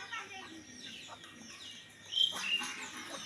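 Young roosters clucking faintly at a distance, a few soft short calls with a brief higher chirp.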